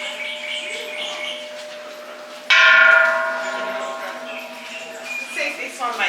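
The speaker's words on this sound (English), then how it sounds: "Depends where you hit the bell." A temple bell on Koh Samui is struck on its outside with one bright, clear strike that rings and fades over several seconds, amid soft background chatter and faint bird chirps.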